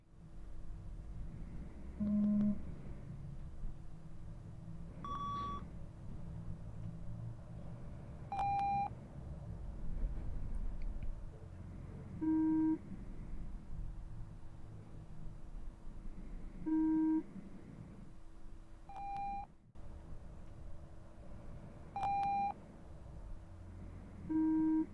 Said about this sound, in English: Now you will hear beeps only in your left ear.